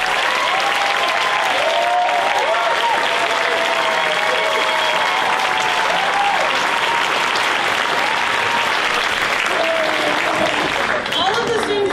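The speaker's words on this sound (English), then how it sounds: "give all of the kids here a huge round of applause" Loud, sustained applause from an audience at a school Battle of the Books event honoring students, steady clapping throughout with some crowd noise and a voice faintly under it.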